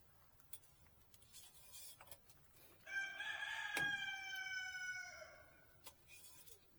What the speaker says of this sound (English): Rooster's back at it again.